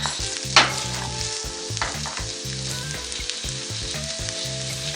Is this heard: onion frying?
yes